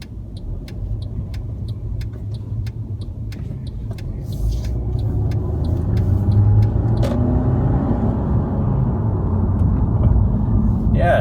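A Mercedes W204 C180 fitted with a RaceChip tuning module cruises in sport mode, a steady low engine and road rumble from inside the cabin that grows slightly louder midway, with faint clicking above it.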